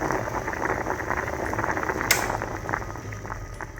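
Potatoes boiling in a pot of water on the stove, a continuous close bubbling and gurgling with one brief sharper clink partway through.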